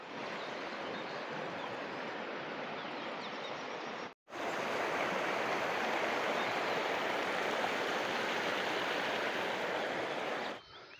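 Water rushes steadily down a steep mountain stream near Almora, Uttarakhand, a loud, close, continuous roar broken only by a brief cut.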